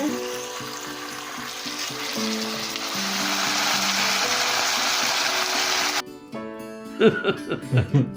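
Steady crackling sizzle of food frying in a pan runs for several seconds, then cuts off, followed by a few brief clinks and handling noises.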